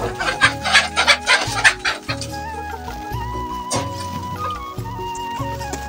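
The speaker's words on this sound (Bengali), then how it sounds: "এখন মুরগিগুলা খাঁচা মুক্ত করে দিলাম। এখন মুরগিগুলা কি সুন্দর লাফালাফি করে বের হলো।" Backyard chickens cluck loudly and close by as they hop out of their cage. The clucking is busy and overlapping at first, then settles into calmer, intermittent calls.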